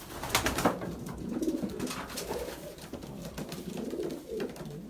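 Racing pigeons cooing in a loft, several soft overlapping coos rising and falling close by, with faint rustling and no talk.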